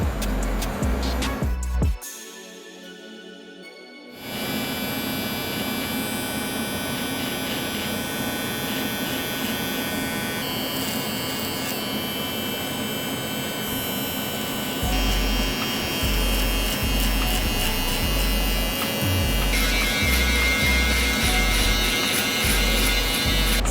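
Electric hair clippers buzz steadily and close up while feathering out a high fade with the 1 guard lever open, a continuous motor whine with brief pauses and slight pitch shifts as the blade moves.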